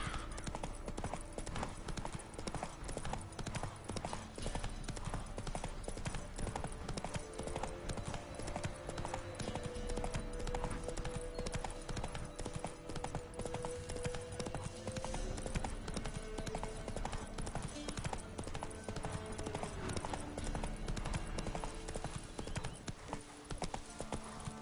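Hooves of the horse Roach clip-clop steadily at a gallop in The Witcher 3 video game, a continuous rhythmic pounding under game music and ambience throughout, with no talk.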